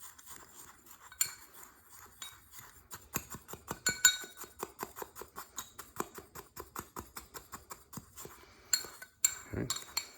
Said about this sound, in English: to mix your batch here of salt and baking soda